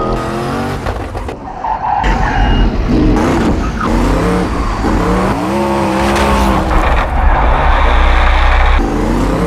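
Ken Block's twin-turbo Hoonicorn bounces loudly off its rev limiter in a gymkhana run, harsh stuttering engine notes with rising and falling pitch sweeps and tire squeal throughout, close and continuous with no talk.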